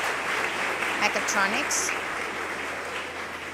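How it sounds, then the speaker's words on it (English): Audience applause at a student parliament session of an international spring colloquium: a steady wash of many hands clapping at moderate distance, continuing under a speaker's voice over a PA. "Please give a warm applause to the Building 1 representative"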